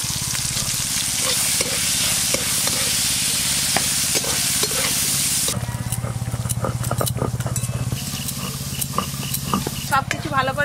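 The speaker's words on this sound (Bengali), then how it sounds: "গরম তেলে প্রথমে দেবো দুটো শুকনো লঙ্কা, লঙ্কাটা একটু ভালো করে ভাজা ভাজা হোক।" Dried chillies, chopped onion and garlic fry in hot oil with a loud continuous sizzle that eases partway through, broken by the scrape and clink of stirring.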